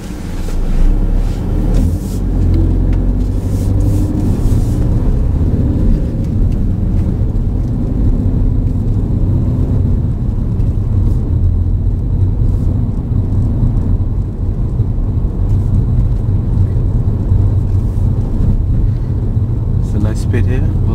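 A car drives along during a mock driving test, a steady low engine and road rumble with wind noise running the whole time, loud and close inside the cabin, with occasional voices under it.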